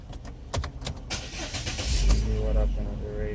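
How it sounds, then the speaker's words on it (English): A Chevy Sonic starts with a few clicks and a short crank, then the engine catches and settles into a low idle rumble inside the car. "Let's turn the car on."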